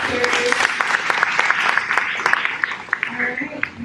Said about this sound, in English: If we can clap one more time for all the teachers.